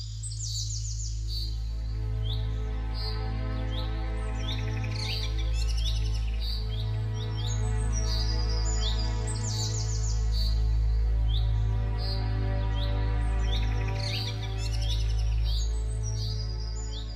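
Pet cockatiels chirp indoors in a home, a dense run of bright, repeated calls and tweets that carries on throughout, close and fairly loud over a low steady background hum.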